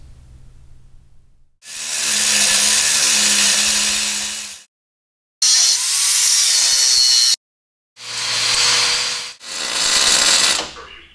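A loud power tool cuts out the shock mounts and coil mounts of a car being prepared for coilovers, heard up close in four separate whining bursts with short silent gaps between them.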